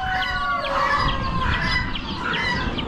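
Young lavender Orpington chickens cluck and chirp continuously, several birds close together over a low rumbling background.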